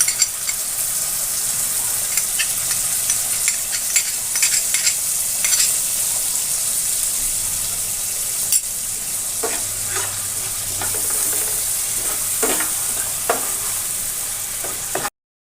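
Soybean curry masala fries in oil on a low flame while it is stirred, a loud continuous sizzle with repeated scraping strokes of the spatula throughout and no talk.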